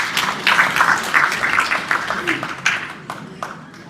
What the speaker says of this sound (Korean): 여러분 박수로 모셔보도록 하겠습니다